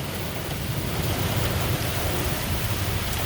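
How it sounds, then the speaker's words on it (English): Heavy rain pours down in dense, steady sheets during a strong summer thunderstorm, with low rumbling thunder rolling beneath the constant hiss, close and loud with no voices. "The rain is getting heavier, it's coming in sheets. We're getting claps of thunder."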